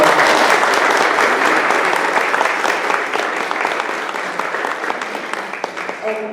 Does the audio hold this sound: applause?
yes